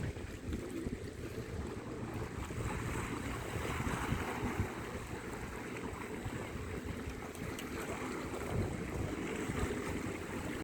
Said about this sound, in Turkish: Dalganın sesini duyuyor musunuz?